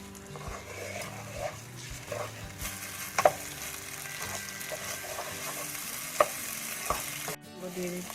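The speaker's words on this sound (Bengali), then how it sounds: "আমি এগুলোকে ভালো করে ভেজে নিব।" Washed rice frying with spices in a pot for prawn biryani, a close crackling sizzle with repeated scraping and stirring clatter, plus a couple of sharper metallic knocks.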